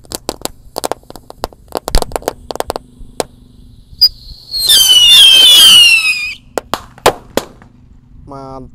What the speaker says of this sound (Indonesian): Roket Pyrotar siap meluncur.